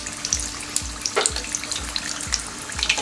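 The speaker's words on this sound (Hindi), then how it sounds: "इसे अच्छी तरह से पलटते हुए गोल्डन कलर आने तक के फ्राई करना है" Mutton keema samosas deep-frying in oil over a high flame give a steady bubbling hiss with soft, regularly spaced low thumps, close and continuous throughout with no talking.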